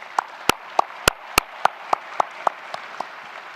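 Sparse, distinct handclaps from an audience after a requiem performed by a group of newcomers at a ceremony in Ottawa honouring the Ukrainian people, about a dozen separate sharp claps spaced irregularly rather than a full ovation.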